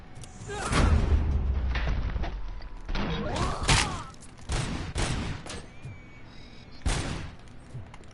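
Repeated bursts of gunfire from a PS5 crime-themed shooter, loud booming shots and rattling volleys spread across the stretch, with a voice speaking briefly between them.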